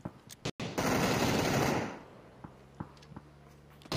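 Gunfire in the video game PUBG during a PCL 2022 esports match: a quick rattle of automatic rifle shots, then a sustained loud burst of fire, followed by a few sharp, separate cracks against a quieter background.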